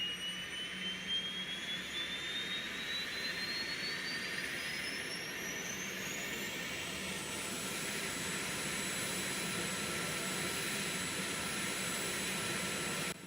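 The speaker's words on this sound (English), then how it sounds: "let's go ahead and listen to this APU fire up" An APU on a simulated FlyJSim Boeing 737-200 in X-Plane 11 spins up with a rising turbine whine that climbs steadily in pitch over a constant rushing roar, then settles into a high steady tone.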